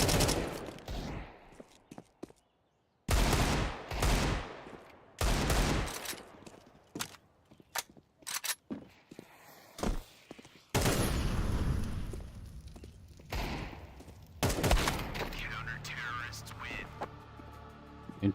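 Bursts of rapid gunfire from a Counter-Strike 2 match, several loud volleys separated by short gaps, mixed with game effects and occasional talk.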